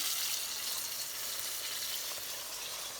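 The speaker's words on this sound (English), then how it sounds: "while I'm flash frying my last batch of chicken" Chicken pieces flash frying in hot oil, giving a dense, continuous hiss and crackle of sizzling that stays close and steady throughout, with no voices.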